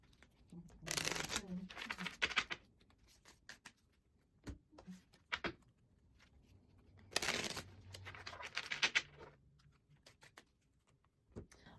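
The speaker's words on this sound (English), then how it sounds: "Let's get these cards shuffled up" Tarot cards being shuffled by hand in several separate bursts of soft riffling and patter, close and fairly quiet, with pauses between each round.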